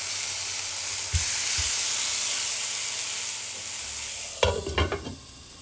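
Eggplant slices for begun bhaja fry in a pan with a steady, close hiss and sizzle that continues throughout, broken by a couple of soft knocks early on and a brief burst of clatter and crackle near the end.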